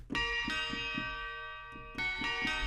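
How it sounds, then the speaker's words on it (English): Sampled tubular bells from the Contact Factory library, old VSL samples used in an orchestral score, strike a series of bright metallic notes in a loose rhythm, each ringing on with long overlapping sustain, alone and clear. "tubular bells that I love, and these are actually from the Contact Factory library"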